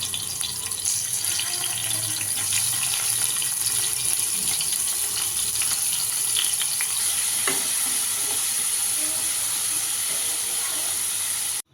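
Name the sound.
paneer frying in a kadhai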